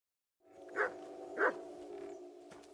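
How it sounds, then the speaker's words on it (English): Dog barking in the medieval video game Kingdom Come: Deliverance 2, two short barks about half a second apart over a steady hum of game ambience, moderately close. "You silly doggy."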